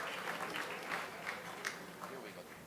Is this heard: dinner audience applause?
yes